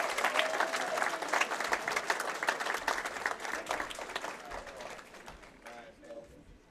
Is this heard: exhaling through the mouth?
no